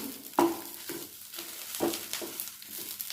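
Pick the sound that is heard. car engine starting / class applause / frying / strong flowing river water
frying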